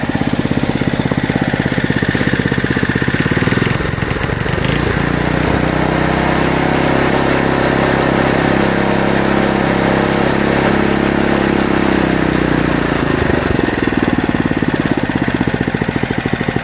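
A 1961 Porter Cable #98 rototiller engine, with a rusted muffler, runs loud and close, a rough buzzing idle that dips briefly, then revs up and holds a higher steady pitch before settling again, with no talk.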